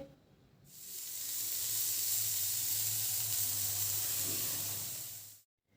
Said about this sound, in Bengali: এবার সমস্ত সবজিগুলোকে আমাদের ভেজে নিতে হবে